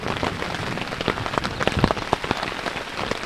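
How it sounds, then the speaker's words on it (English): Steady rain drums on a tent through a long night of solo canoe camping on the French River, a dense patter of drops with sharper individual taps scattered throughout, close and continuous with no voices. "It's been raining on and off for hours and hours and hours."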